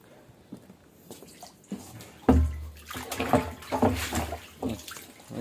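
A large, freshly caught fish is rinsed in water at a fishing spot: quiet drips at first, then a burst of sloshing and splashing with irregular squishy movements, close and fairly loud.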